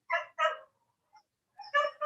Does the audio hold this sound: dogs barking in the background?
yes